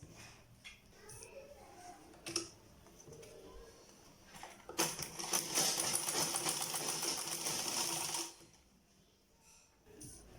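A sewing machine stitching quilted fabric or leather for slide shoes runs in one loud, rapid burst of several seconds, preceded by quieter handling noises and falling back to near silence afterward.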